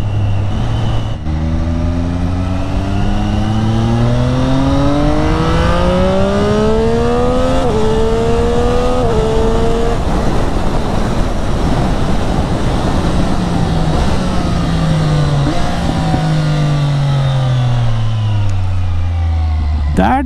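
Triumph Street Triple fitted with an Akrapovic carbon exhaust revs hard through gear shifts, a loud continuous engine roar with rising and falling pitch sweeps as it climbs through the revs and changes gear.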